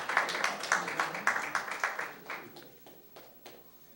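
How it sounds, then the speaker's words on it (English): A small audience gives a round of applause for a guest at a talk, with rapid close claps that thin out and fade over the last seconds. "Give him a round of applause."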